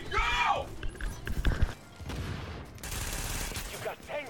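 Rapid automatic gunfire from a high-rate shotgun in the video game The Division, in dense bursts with a pause in between, loud and close, mixed with game effects.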